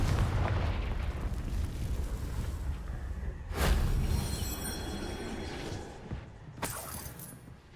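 Blasts from the Confringo fire spell in Hogwarts Legacy: a deep rumbling bed of explosive noise, with a sharp, loud burst midway and another crackling blast near the end.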